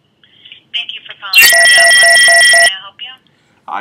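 A telephone call on a business line: a short burst of dial tones, then one long, loud, pulsing electronic ring tone, with a voice speaking briefly before and after.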